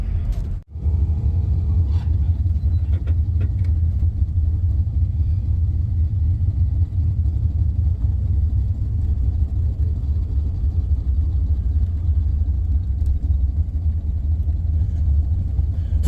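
Drag racing cars, a 455 Oldsmobile F85 and a Pontiac Ventura, idle with a deep, steady rumble, loud and continuous throughout after a brief sharp break at the start.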